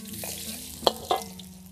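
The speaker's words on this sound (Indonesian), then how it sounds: "Ini bawang-bawang yang sudah diiris kita tumis dulu." Sliced shallots and garlic sizzle in a hot pan while being stir-fried for a water spinach dish, a soft steady crackle with two sharp scraping clacks of the spatula close by, heard alone in a short burst.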